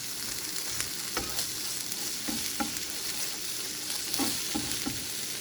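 Egg white omelet frying in a pan on the stove, a steady close sizzle broken by several soft clicks and scrapes of a utensil, with no talking.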